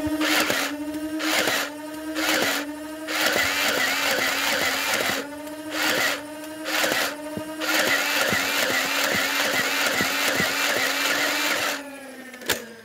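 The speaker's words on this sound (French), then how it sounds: "on va faire des tirs posés avec les fléchettes Ultra Classiques et des petites rafales" Nerf Ultra Select blaster firing Ultra Classic darts in short bursts, loud motorized whirring revs with rapid rhythmic dart shots, repeated several times with brief pauses between, no talking.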